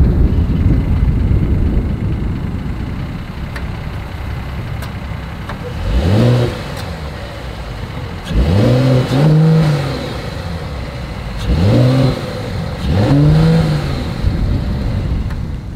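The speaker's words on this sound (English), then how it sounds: "As always, here is that exhaust clip." A 2022 Mercedes-Benz E 450 All-Terrain wagon revs through its dual exhaust. A steady idle rumble rises into four loud rev blips, each climbing and falling back, heard close up with no talking.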